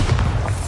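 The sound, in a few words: Bombarda explosion spell from the video game Hogwarts Legacy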